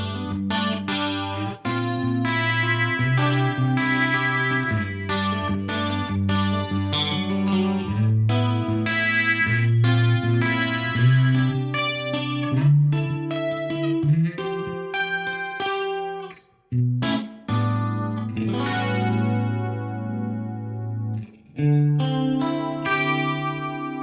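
Clean electric guitar through the detune effect of a vintage Sony DPS-M7 rack unit, a shimmering, chorus-like played passage of chords and single notes with brief pauses, close and steady with no talking.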